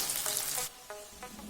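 Potatoes tipped into a hot pan and stirred while frying for matar paneer, giving a bright sizzle that drops back after the first second, with a few short scraping stirs over softer frying hiss.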